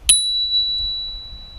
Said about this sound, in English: Over here on the right, we do have a little flick bell.